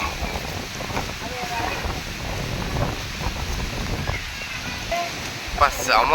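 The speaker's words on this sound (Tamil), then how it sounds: "சரியான காத்து அடிக்குது இந்த டைமுக்கு இவ்வளோ புயல் வருதுப்பா" Strong stormy wind gusts outside a home, a steady broadband roar of moving air and rushing noise throughout, close and fairly loud, with brief voices audible under it.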